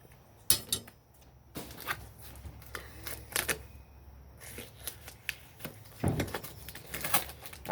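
A Bowie knife is handled while being unboxed, giving a string of sharp clicks, taps and rustling scrapes in irregular bursts, close by and fairly quiet with brief pauses between them.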